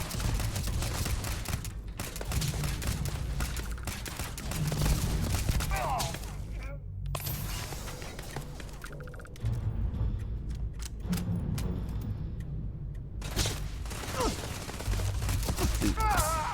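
Sci-fi gunfire in Starfield, bursts of rapid shots and scattered single cracks over a dense noisy combat bed, fairly close, running through a long firefight with brief lulls.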